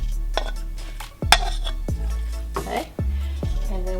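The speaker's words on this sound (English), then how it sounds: "I'm gonna put the radish that we had cooked in here." Cooked radish for radish cake being scraped into a dish, a few quiet clinks and knocks of utensil against the container spaced about a second apart, with faint sounds around them.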